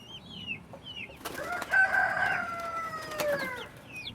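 A chicken clucks and crows loudly close by, with a burst of harsh, drawn-out calls in the middle and softer clucks and chirps around it, heard alone without talk.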